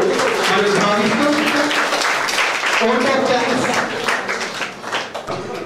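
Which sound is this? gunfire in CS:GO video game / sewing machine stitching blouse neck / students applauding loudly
students applauding loudly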